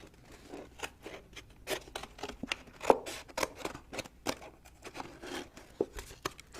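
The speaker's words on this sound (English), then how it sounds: "So start about there, and then start cutting your top off." Scissors snipping through the top of a plastic bottle, giving a steady run of short crisp cuts and crinkles at close range, with no talking over it.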